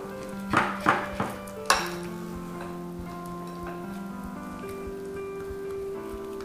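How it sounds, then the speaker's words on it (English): A spatula scrapes around a mixing bowl of cornbread batter with flour, peppers, bacon and corn, giving a few sharp clinking knocks at the start followed by soft, quiet stirring and scraping, close and alone. "I'm going to give the side of my bowl a little scrape here and loosen up all that flour and goodness"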